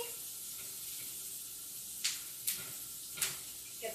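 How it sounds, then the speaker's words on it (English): Thyme sizzles and crackles in oil in a frying pan while vegan gnocchi is cooked, a steady soft hiss broken by a few sharp pops near the end. "Get the nice bubbling, all the cracklings from the thyme."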